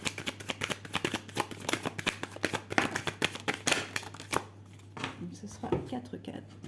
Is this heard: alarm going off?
no